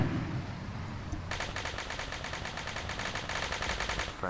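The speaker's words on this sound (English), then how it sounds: "Heavy shooting over there." Heavy gunfire in the military game Arma 3: a fairly faint, steady stream of rapid automatic shots with a dense, even rhythm that runs for several seconds.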